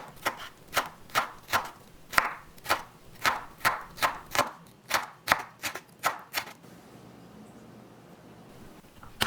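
Chili peppers minced with a knife on a board, a quick regular run of about a dozen crisp, close chops, then quiet.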